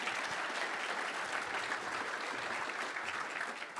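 Steady applause fills a debate hall on whether God exists. Many hands clap in a dense, even wash at moderate level without a break, easing off slightly near the end.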